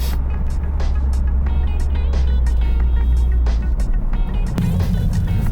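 A 2023 Lexus IS500 F Sport driving in regular drive mode, its engine and road noise a steady loud low rumble throughout, with a brief surge near the end.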